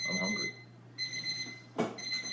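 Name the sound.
kitchen timer buzzer for frying eggs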